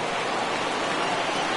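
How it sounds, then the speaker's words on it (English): Rain comes down steadily over a Major League Baseball game between the Phillies and the Mets at the ballpark, a dense, even hiss with no break throughout. "the conditions aren't ideal with the rain coming down"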